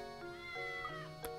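A cat meows repeatedly in the Professor Layton video game, a few short soft mews with no talking, laid over steady game music.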